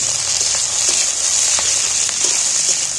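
Onions and chopped capsicum fry in a little oil in a pan, giving a steady, close hiss with faint scattered crackles throughout and no talking.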